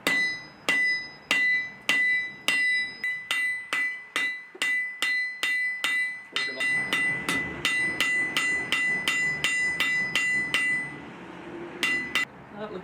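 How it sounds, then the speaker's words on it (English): Steady hammer blows ring on hot metal as a campfire pan holder is forged by hand, roughly twenty sharp, evenly spaced clangs close up, with a faint background rumble joining partway through. "Okay, hammer it down."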